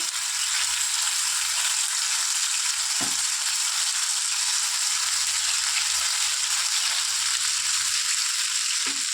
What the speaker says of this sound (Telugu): ఇప్పుడు ఇందులో ఒక 1/2 టీ స్పూన్ వరకు అల్లం వెల్లుల్లి పేస్ట్ వేసేసుకొని పచ్చివాసన పోయేంత వరకు బాగా ఫ్రై చేసుకోవాలి